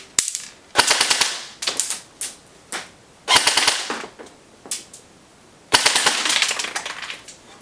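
A JG Snow Wolf M99 SW-02 airsoft electric sniper rifle, an M82A1 replica, fires in rapid bursts of sharp, clattering shots at about ten a second, loud and close, with short pauses between strings.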